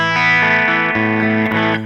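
Electric guitar played through an overdrive effects pedal, sustained distorted chords ringing loud and close with a couple of chord changes, no talking.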